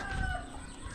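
Chickens on a rural provincial farm cluck softly, with a high crowing tone drawn out in the background, faint and continuous over a low outdoor murmur.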